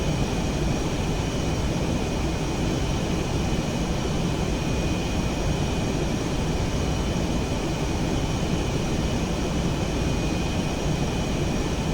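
A fighter jet taxis toward the catapult in a flight simulator game, its engine a constant, even drone with a faint high whine, unchanging throughout.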